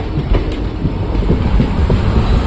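An empty train being shunted toward the depot, with steady low rumbling of rolling railcars and faint wheel clatter close by, continuous with no talk.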